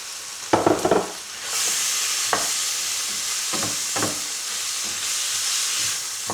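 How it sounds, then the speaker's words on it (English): Vegetables sizzling as they are stir-fried in a hot pan with a honey sauce; a steady broadband frying hiss sets in after a few sharp clatters of food dropping in and stirring, with occasional scrapes and bumps, close and alone. "See how it's like sizzling?"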